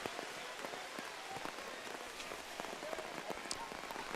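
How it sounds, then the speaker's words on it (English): Steady rain falls during an outdoor ultimate frisbee final at a masters world club championship, a dense wash of patter with faint crowd noise and scattered clapping underneath. "hopefully not in this rain"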